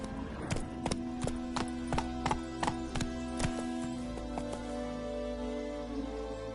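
Roach, a horse in The Witcher 3, gallops with a steady run of sharp hoof clip-clops over a low ambient drone, close and clear, with no talk.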